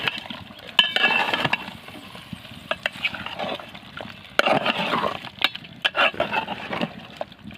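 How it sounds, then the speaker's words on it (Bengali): Food being stirred in a pan on the stove, scraping and clinking of the utensil in irregular bursts with soft sizzling between strokes, close and fairly loud. "এখন নাড়িয়ে নেব।"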